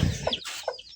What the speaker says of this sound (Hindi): यहाँ पर है हमारी मुर्गी और उसके साथ 2 चूजे।